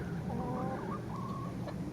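A hen in a backyard coop gives soft, low clucks and murmurs, fairly close by, over a constant low background hum with no talking.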